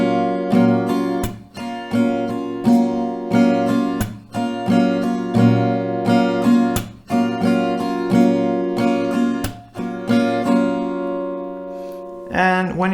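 Acoustic guitar strums a rhythm pattern with down and up strokes and muted slap accents, several rounds of steady, loud, close-up strumming with brief pauses between phrases and no speech.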